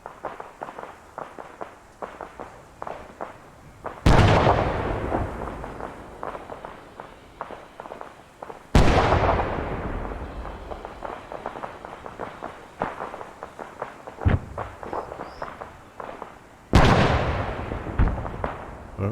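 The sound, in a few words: grenade explosions and gunfire in video game Arma 3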